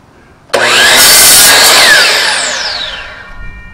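A DeWalt miter saw starts with a sharp, loud whine, holds briefly at full speed, then winds down over a few seconds.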